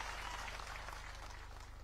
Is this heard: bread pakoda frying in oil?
no